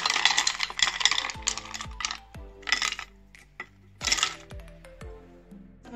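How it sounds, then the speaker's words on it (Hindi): Ice cubes for a piña colada clatter into a blender jar in bursts of bright, close clinks and knocks, several separate drops spread over a few seconds with short pauses between. "जो हमने आइस निकाली थी वो हमने अंदर डालनी है बड़े ध्यान से"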